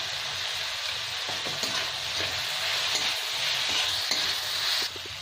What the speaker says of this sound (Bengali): আবার দু তিন মিনিট ভালো করে ভেজে নেব